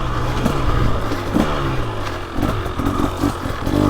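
A 2023 KTM 300XC TBI two-stroke dirt bike engine revs loud and close, pulling through repeated rising bursts of low-end throttle with a rough, crackling exhaust note.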